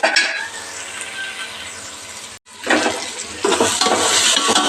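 Ginger garlic paste fries loudly in a pan with a bright, close sizzle and stirring scrapes. There is a brief break in the middle, and then the hissing comes back stronger.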